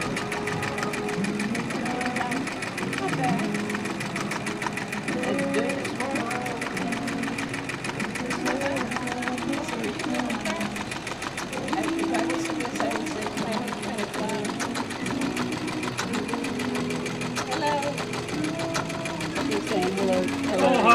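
An embroidery machine stitches a wolf design onto a snapback cap, its rapid needle clatter running steadily and close throughout while people chat in the background.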